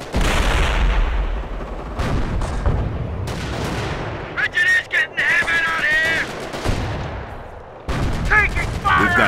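Gunfire and heavy artillery booms from a D-Day battle in the game Company of Heroes, loud crashing blasts and rattling shots, with shouted voices and bird-like chirps breaking in between the explosions.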